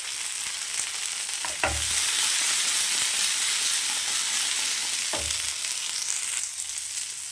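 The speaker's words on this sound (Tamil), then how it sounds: "நல்லா வதக்கலாம் வெங்காயத்தை." Onions frying in a pan for mutton curry, a loud continuous sizzle and hiss close by, broken by two brief clanks of stirring, with no talk.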